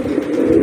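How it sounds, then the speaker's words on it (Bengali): A pair of large German Black Beauty Huma pigeons give a short, close, steady low coo that lasts under a second, with no talking. "একজোড়া বিগ সাইজের জার্মানি ব্ল্যাক বিউটি হুমা কবুতর আছে"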